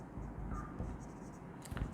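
Pen writing on paper, with faint continuous scratching strokes across the whole stretch, soft and close, plus a few brief louder scrapes near the end.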